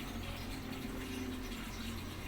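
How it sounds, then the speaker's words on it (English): An LG washing machine drains water after a stuck fault is cleared, giving a steady, close whooshing rush of pumped, flowing water with a low hum that holds constant throughout. "the machine is now draining well"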